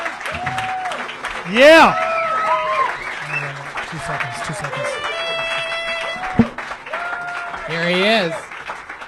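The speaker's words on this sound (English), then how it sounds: "Really absorbing the applause tonight." A studio audience at a live comedy show claps and cheers as a comedian arrives, steady applause running under excited shouts and talking.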